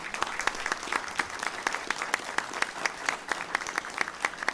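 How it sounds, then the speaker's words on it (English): Steady, fairly loud audience clapping at a school music department event, many hands forming a continuous rhythmic patter with no speech over it. "Can I have a quick round of applause for my mom?"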